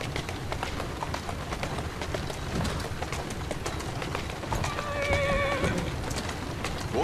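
Assassin's Creed Syndicate game audio: hooves clip-clop steadily under a general game ambience, then a horse whinnies clearly near the end, a rising and falling neigh standing out over the footfalls.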